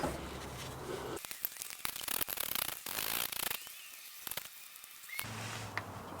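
A ratchet wrench backs out the long oil pan bolts on a Jeep JK, giving bursts of quick mechanical clicking that stop and start, close up and moderately loud, with no talking.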